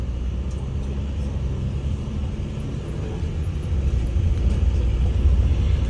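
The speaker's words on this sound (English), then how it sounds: "Pineapple transport trucks right here on the left" Large pineapple transport trucks rumble along a plantation road on Maui, a steady low engine drone that swells slightly louder toward the end, heard continuously without talk.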